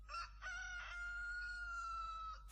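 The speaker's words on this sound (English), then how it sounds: "was that a fucking rooster I just heard?" Rooster crowing in the film Caligula, a single long drawn-out cock-a-doodle-doo call, fairly faint and distant, stretching over about two seconds with no talk.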